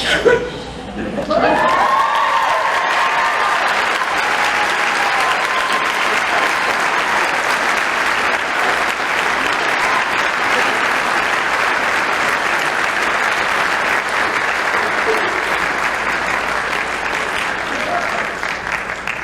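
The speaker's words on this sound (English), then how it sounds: "Let's give a round of applause once again to our valedictorian." Prolonged, loud audience applause for a class of 2014 valedictorian at a graduation ceremony, dense clapping from many hands with a few cheers, holding steady for nearly twenty seconds after a brief voice at the start.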